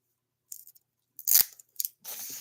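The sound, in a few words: scissors cutting packing tape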